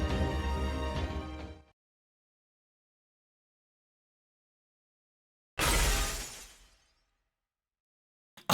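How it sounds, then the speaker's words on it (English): A video game effect of a dimension being shattered, two loud glassy shattering bursts separated by silence, each breaking sharply and ringing out as it fades. "was that Saber Shiki shattering the fucking dimension?"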